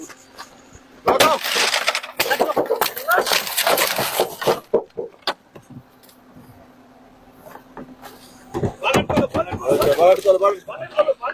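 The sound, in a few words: car window glass being smashed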